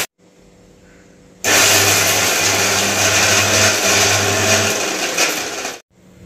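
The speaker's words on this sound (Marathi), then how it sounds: "आता हे जे पदार्थ आपण मिक्सरच्या भांड्यामध्ये टाकलेत ना ते आपण करून घेऊ" A mixer grinder whirs loudly as it grinds dry coconut and garlic into chutney, a steady high motor roar that starts abruptly after a quiet pause and runs for about four seconds before cutting off.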